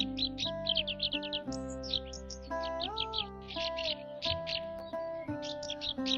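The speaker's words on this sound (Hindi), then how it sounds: "सुनते हैं चारों ओर के पक्षियों की धुन" Bright, busy chirps and warbling tweets from several birds, rapid and overlapping, with steady sustained tones running underneath throughout.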